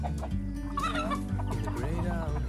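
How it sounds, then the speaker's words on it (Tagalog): A flock of chickens in the Philippines clucks continuously and close by, several birds overlapping in a busy, steady chatter with no talking. "Ang daming manok ni Tatay."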